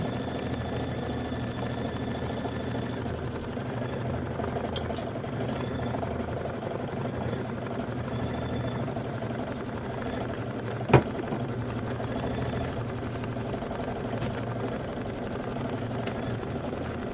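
Quilt blocks are stitched on a sewing machine running continuously at a steady, close, humming pace for the whole stretch, with one brief sharp click near the middle; no talking.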